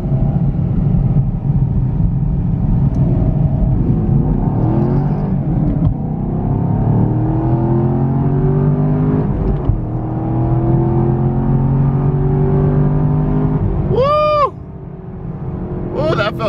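Camaro SS 50th Anniversary edition pulling away and accelerating on the road, a loud steady engine drone with rising gear sweeps and a brief shift, heard from inside the car.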